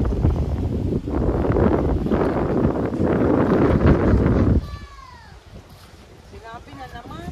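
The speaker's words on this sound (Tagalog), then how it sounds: "Oo, mahangin." Strong wind gusts roar and buffet the microphone outdoors for several seconds, then drop away abruptly, leaving quieter air with thin, high, wavering calls.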